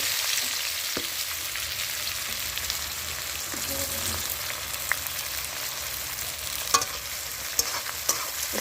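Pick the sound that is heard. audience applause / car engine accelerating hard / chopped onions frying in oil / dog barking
chopped onions frying in oil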